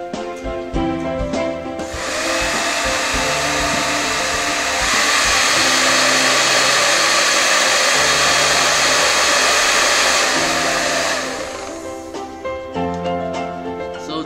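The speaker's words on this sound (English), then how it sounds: "The tools we use is the hair dryer to supply the wind." A hair dryer blows with a steady, loud whooshing roar into a small wind turbine generator, running about ten seconds before switching off, with faint rustling around it.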